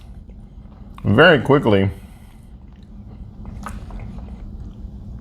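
Close-up crunching as someone bites into crunchy Ukrainian MRE ration food, a few short brittle bites following a burst of speech.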